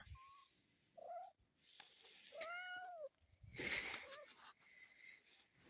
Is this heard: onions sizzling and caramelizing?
no